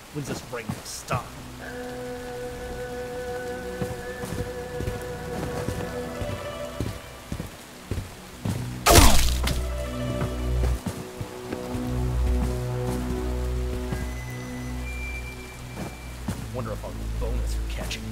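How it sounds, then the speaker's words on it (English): Rain falling in the video game Bright Memory Infinite, a steady patter of drops on surfaces under game music and sound effects, with a sharp loud crack partway through and voices speaking. "When's this rain gonna stop?"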